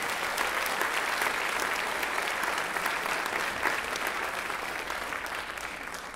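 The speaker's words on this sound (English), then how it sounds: "So please, giant round of applause for our upper administration." Sustained applause from a concert band audience fills the room, a dense even wash of clapping at steady loudness with no voices over it.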